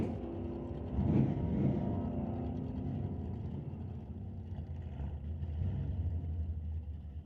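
Dodge drag race car cruising through to the top end of the strip at an ET series sportsman race. A distant, muffled engine roar drones steadily and stays faint throughout.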